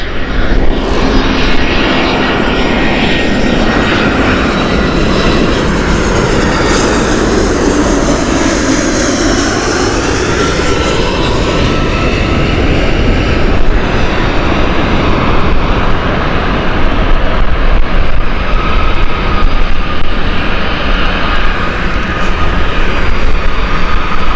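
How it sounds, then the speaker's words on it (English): An EasyJet Airbus A320 jet arrives at Gatwick Airport from Geneva with a loud, continuous engine roar. A sweeping tone rises and falls as the jet passes close by. "our next arrival is Geneva flight Airbus A320 from EasyJet"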